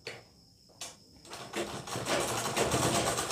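An electric sewing machine stitches the hem of a kurti side slit, starting with a couple of brief taps and then running into a fast, even whirring hum at close range with no talking.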